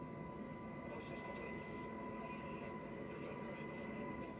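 A helicopter on a disaster rescue flight makes a steady, unbroken droning hum with a constant tonal whine, holding an even level throughout.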